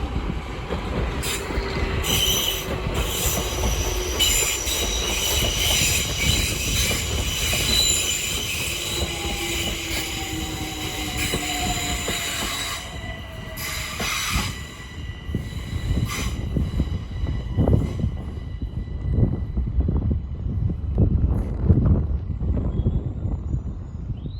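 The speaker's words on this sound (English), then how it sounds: "London Overground service from London Euston to Watford Junction, being worked by 378225." A London Overground Class 378 electric train, unit 378225, runs through Bushey station on the West Coast Main Line, loud and close, with a steady rumble of wheels, rail clatter and high squealing throughout.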